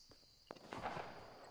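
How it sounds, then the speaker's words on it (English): A few faint, sharp cracks of distant Fortnite gunfire, two or three quick reports over a soft background hiss. "I hear some firing. Down there."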